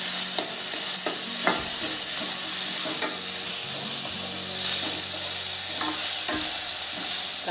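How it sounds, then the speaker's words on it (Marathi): Finely chopped onion sautéing in oil for matki usal, a steady close sizzle with regular stirring scrapes and occasional knocks of a spatula against the pan, unbroken and without any voices. "कांदा छान परतून घेऊ आपण आता"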